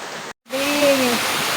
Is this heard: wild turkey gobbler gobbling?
no